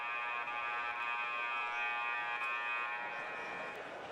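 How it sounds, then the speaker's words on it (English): A game buzzer in a high school varsity basketball gym sounds as one continuous, steady electronic drone that lasts several seconds, fairly loud and unbroken. "Here's the second buzzer."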